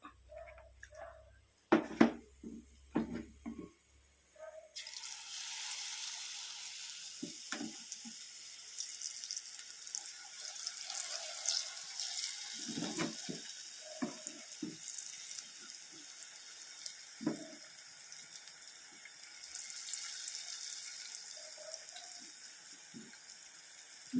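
Jackfruit neyyappam batter poured into hot oil sizzles and bubbles steadily at moderate volume, with a few knocks and clatters of utensils early on.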